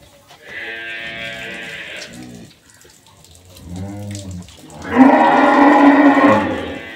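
An improved-breed dairy cow on an agro farm lowing twice, low and drawn out, then a louder, rougher burst of farm noise; no talk.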